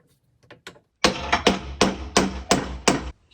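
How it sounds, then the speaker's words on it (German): A wheel bearing ring is hammered out of a Mercedes W124 wheel hub, six loud, close metallic blows at an even pace, preceded by a few light taps. "Ein paar Schläge waren ausreichend, um den Ring rauszubekommen."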